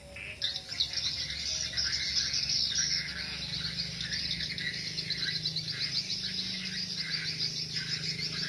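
A played-back recording of a bird colony fills the air with a continuous wash of high, busy chirps and twitters, steady and fairly close, with no voices.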